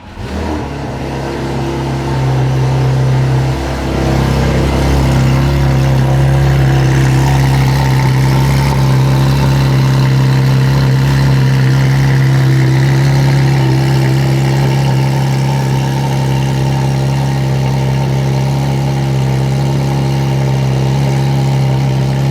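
A car engine with headers and an aftermarket exhaust cranks and catches from a cold start, then settles into a loud, steady, droning idle that runs on without letup.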